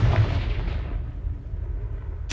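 A Confringo blasting spell goes off in Hogwarts Legacy with a loud, deep booming blast that rumbles and fades over about two seconds, followed by a sharp burst right at the end.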